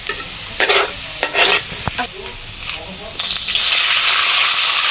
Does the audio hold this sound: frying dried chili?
yes